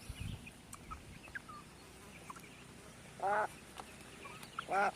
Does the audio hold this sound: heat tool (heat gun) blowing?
no